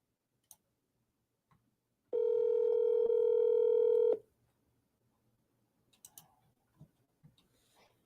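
A phone placing a call emits a steady two-second tone, followed by scattered faint clicks and taps, close by and otherwise quiet with no voices.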